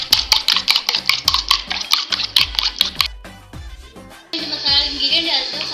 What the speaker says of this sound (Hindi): अंडा लिया था, मैं इसको फेंट रही हूँ